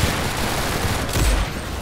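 Gunfire in the Roblox game Arsenal forms a dense, continuous crackle of rapid shots with a heavier burst near the end, loud and unbroken throughout.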